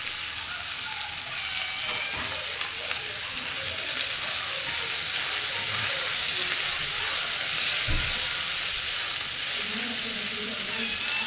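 Long beans with salt and chopped onion sizzle and fry steadily in a pan, a continuous close hiss with occasional soft clinks, no voices.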